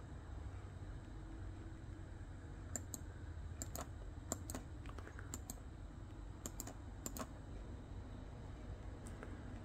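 Keys tapped on a computer keyboard during machine parameter setup, including the shift key: a dozen or so sharp clicks in loose clusters, close by, over a steady low hum.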